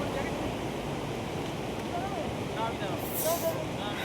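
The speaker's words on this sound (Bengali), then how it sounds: "জলপ্রপাতের আওয়াজটা নিশ্চয়ই শুনতে পাচ্ছেন।" A waterfall tumbles down the mountainside beneath a bridge over the Shyok river in Turtuk, Ladakh. It makes a steady, broad rushing roar that fills the scene at moderate volume without a break.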